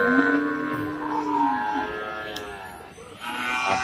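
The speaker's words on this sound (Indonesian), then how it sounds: "di depan saya lapak tambatan domba, sebagian kecil adalah" Tethered sheep and goats bleating at a busy outdoor livestock market in Bumiayu, Brebes, with overlapping drawn-out calls and constant crowd murmur in the background.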